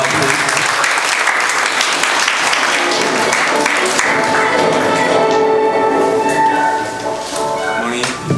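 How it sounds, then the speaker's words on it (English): Loud, close applause greets a Korean consul at a Korean War armistice anniversary ceremony held by the US 40th Division, crisp individual claps over a crowd, fading in the last seconds as a voice begins speaking over it. "of applause, please."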